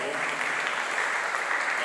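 A church audience applauding during a live choir performance, a dense steady clapping close to the mic across the whole short moment.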